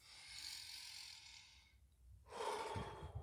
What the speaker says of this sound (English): Like I said, deep inhales